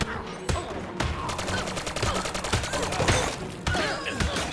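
Rapid bursts of shotgun blasts and Uzi submachine-gun fire in the Lego Batman: Legacy of the Dark Knight video game, loud, dense and continuous with sharp repeated cracks, a voice briefly heard underneath.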